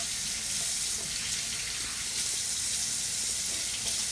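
Tap water runs steadily into a sink while hands are washed with Ivory soap, a continuous close, bright splashing hiss with no voices.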